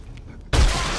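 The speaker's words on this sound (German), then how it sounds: "Luftschlag." A sudden airstrike blast in the survival game 7 Days to Die bursts in after a quiet half-second, a loud, broad explosion with a deep rumbling boom that holds steady to the end.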